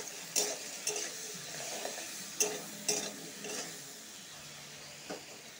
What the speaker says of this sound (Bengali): ভালো করে আলুটা ভেজে নিব।